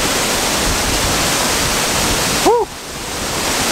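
A waterfall in Tasmania roars loud, close and continuous, a broad rushing wash of water that fills everything, with a man's brief exhaled exclamation breaking through near the end.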